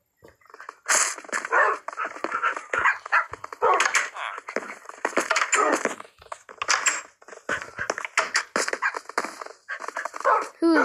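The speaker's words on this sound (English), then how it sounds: "a really bad idea to get these dogs in here" Tamed wolves from Minecraft bark in a dense run of short, loud electronic yelps and whimpers that repeat for the whole stretch.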